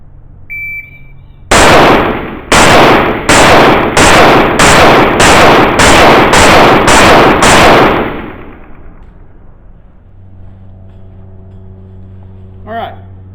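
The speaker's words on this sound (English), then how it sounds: "So I'm going to shoot that again and see if I can get it 10 seconds or under." Close, loud gunfire from an STI Staccato C2 pistol: ten sharp shots in a quick, steady string, each with a short ringing tail, followed by quiet with a low hum.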